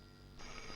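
A telephone rings in a tense scene in an action film: a steady electronic ring that grows louder and brighter partway through the brief moment, with no talk over it.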